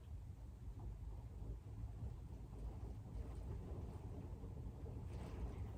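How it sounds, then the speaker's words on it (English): A steady low rumble of stormy weather with rain noise continues throughout, distant thunder blending into the constant background. "It's raining outside now."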